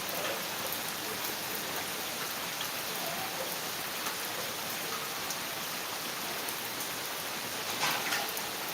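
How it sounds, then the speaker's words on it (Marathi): Steady monsoon rain falls in a soft, even hiss, with scattered drops pattering nearby and no talking. "मस्त वाटत आहे पावसाळ्याचं वातावरण"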